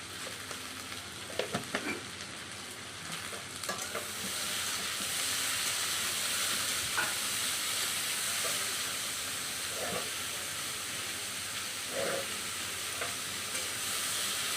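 Jute leaves frying in a pan with salt, a steady hissing sizzle punctuated by a few scraping stirs and clinks, close and continuous with no talk.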